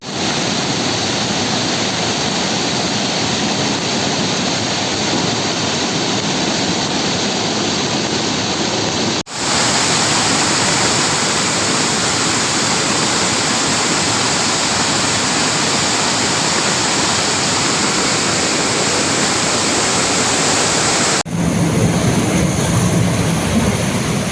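Loud, continuous roar of rushing floodwater entering a house during heavy rain in Srisailam fills the whole clip, steady and dense, with abrupt level shifts but no voices.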